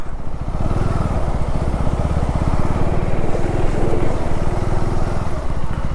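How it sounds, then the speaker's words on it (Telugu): A KTM Adventure 390 motorcycle engine putters loudly and continuously with a rapid, rough pulsing beat while crossing water, rising slightly as it pushes through. "నా బైక్తో ఇది ఫస్ట్ వాటర్ క్రాసింగ్ అనమాట."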